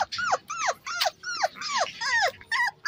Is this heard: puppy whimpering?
yes